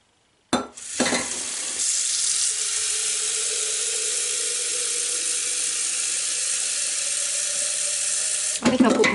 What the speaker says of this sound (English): I think I'll put more hot water into here.